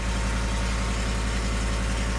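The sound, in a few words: truck engine idling with possible exhaust leak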